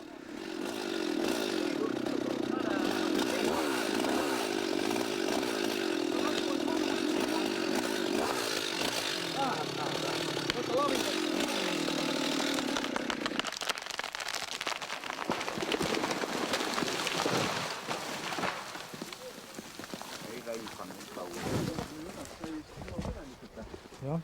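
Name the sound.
felled aspen tree falling from its stump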